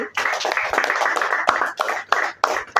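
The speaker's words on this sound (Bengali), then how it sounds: "তার জন্য একটা হাততালি দাও সবাই" A sixth-grade classroom breaks into close, brisk hand clapping for a student, coming in uneven bursts with short gaps between them.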